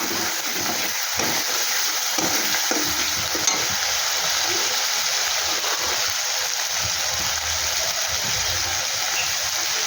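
Food seasoned with cumin powder and salt being stir-fried in a pan, a loud steady sizzle close up, with rhythmic scraping and stirring of a spatula underneath.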